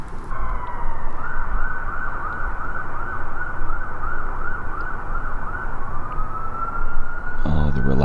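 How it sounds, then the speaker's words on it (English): Wailing emergency vehicle sirens echo through a residential area at night, a loud sustained rising and falling tone over rumbling traffic, with a brief extra siren burst near the end. "Oh, the relaxing nighttime sirens."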